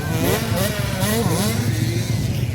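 High-pitched 65cc race motorcycles rev hard during a final heat, engine pitch sweeping up and down as riders shift and accelerate, loud and close with no talk.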